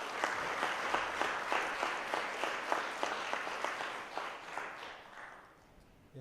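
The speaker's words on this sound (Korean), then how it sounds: "뜨거운 박수로 맞이해주시기 바랍니다." Warm applause from a seated audience at a Korean pharmaceutical industry symposium as a speaker is welcomed to the stage, steady dense clapping with some sharper bursts, fading out near the end.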